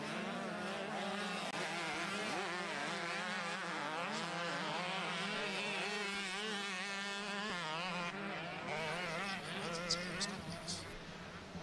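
125cc 2-stroke motocross motorcycles racing in a youth class at a New York State motocross championship, engines buzzing and revving with rising and falling whines throughout, heard at a moderate distance and fairly faint.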